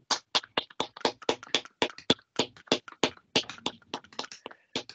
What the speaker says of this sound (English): So we can all give everyone a round of applause.